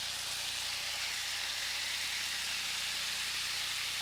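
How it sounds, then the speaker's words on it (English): Swordfish steak searing on a hot George Foreman electric contact grill, a steady bright sizzle and hiss that holds evenly throughout, close and continuous with no talk. "take your swordfish, and put it on the hot grill. Oh, listen to that sizzle."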